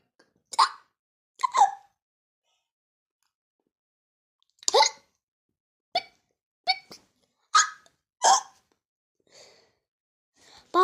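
A voice imitates a myna bird's hiccups in a children's story, with a series of short, sharp, breathy hiccup bursts spaced irregularly across quiet pauses, close and clear.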